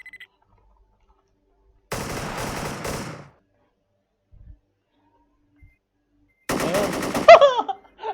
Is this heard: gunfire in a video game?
yes